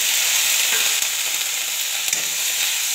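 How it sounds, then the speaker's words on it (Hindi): Cauliflower fries in hot oil in a pan with salt and turmeric, giving a steady, dense, close sizzle with a few faint stirring knocks. "ये फूल गोभी को फ्राई कर लेंगे"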